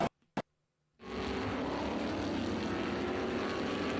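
Two short clicks, then a loud, steady TA2 race car engine roar with gearbox sounds kicks in abruptly and holds, droning close by without pause, at Mid-Ohio.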